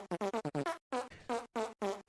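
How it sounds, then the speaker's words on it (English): A comedic fart sound effect plays as a rapid series of short, loud, buzzy pulses, a brief pause, then a longer sputter and a few more bursts. "maybe we're just missing the grand old picture, and we should just be farting on things."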